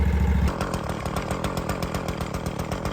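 A string trimmer cutting weeds in a yard buzzes loud and close, with a rapid pulsing motor rasp throughout.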